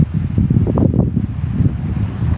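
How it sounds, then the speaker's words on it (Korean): Strong, gusting wind from Typhoon Mitag blows through a city, a loud, rumbling buffet against the microphone that swells and dips unevenly throughout, with no voices. "도심에서도 강풍이 이어지고"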